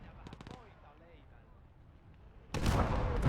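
A heavy sIG infantry gun fires a shell in the Gates of Hell Ostfront war game, a single loud booming blast at the end that follows a stretch of quieter combat noise and some talking.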